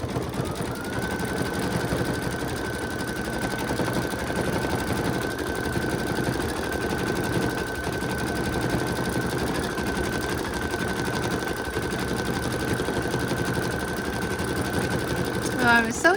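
An embroidery machine stitches a dense design over existing stitching, a steady, close mechanical whir with rapid needle chatter running almost continuously, with a brief clunk near the end.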